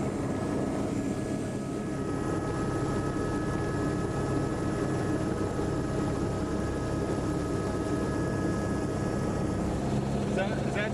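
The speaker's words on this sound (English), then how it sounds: "Going a helicopter scout of Philadelphia." Helicopter flying over Philadelphia on an aerial scouting run, a steady loud rotor and engine drone holding constant throughout with faint voices beneath.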